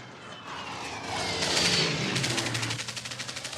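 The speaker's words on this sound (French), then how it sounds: "un avion passe. C'est un avion ennemi." An enemy airplane's engine drones and swells as it passes overhead, rising to a loud roar then fading with a fluttering, pulsing tail.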